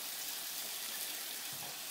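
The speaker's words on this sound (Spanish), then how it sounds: "le voy a subir al fuego porque si no se me va a quemar el jamón" Ham frying in a pan on a stovetop burner for a Cuban-style torta, a steady close sizzle and crackle of hot fat that holds evenly throughout with no voices over it.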